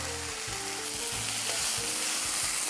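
Ingredients sauté in a hot pan with a steady, close sizzle while a utensil scrapes and stirs in repeated low strokes.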